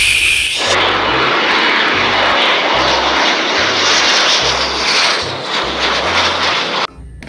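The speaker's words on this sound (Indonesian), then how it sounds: "ini ada pesawat jet" A toy military jet gives off a loud, steady roaring engine whine that holds for about six seconds, then cuts off sharply near the end.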